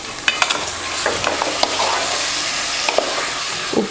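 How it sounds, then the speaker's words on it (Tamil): Bone-in chicken with salt and turmeric is stirred in a pan for a hotel-style parotta salna, giving a steady sizzling hiss broken by scraping and clinking spoon strokes, close up and with no talking. "உப்பு மஞ்சத்தூள் போட்டு கலந்து வேக வச்சிடலாம்"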